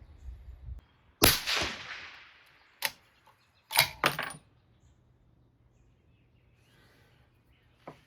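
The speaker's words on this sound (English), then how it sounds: "So first shot here, again, this is going to be a cold bore." A 7mm SAUM rifle firing a cold-bore first shot with 165-grain Tipped Game King bullets over H1000 powder gives one loud sharp crack with a fading tail, followed by a few metallic clanks and clicks in an otherwise quiet setting.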